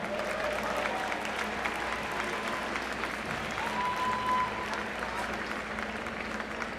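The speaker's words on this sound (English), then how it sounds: "Let's have a nice round of applause for all of them." Steady, fairly distant applause from a crowd in a hockey field house honoring the 2016 Phalanx inductees at an RPI men's hockey game against Quinnipiac, even and sustained with faint voices mixed in.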